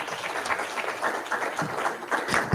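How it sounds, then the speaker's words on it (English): Audience applause for a director at a regional engagement meeting, a steady patter of moderate clapping from a room that continues through the moment without fading. "Let's give a better round of applause to the director."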